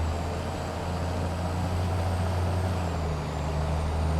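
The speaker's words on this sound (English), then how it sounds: "hitting the brakes now" Air brakes on a Volvo truck in the video game Farming Simulator 22, a steady loud hiss over a droning engine hum held for several seconds with no talk.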